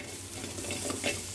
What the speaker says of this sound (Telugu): మసాలా కోసం లవంగాలు, కాజు, ధనియాలు, కొంచెం జీలకర్ర, పచ్చి కొబ్బరిని ఇలా వేయించుకోవాలి